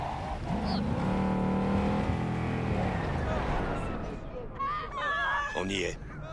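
A car engine idles and revs in Cyberpunk 2077, a steady loud rumble under game music, with voices talking over it near the end.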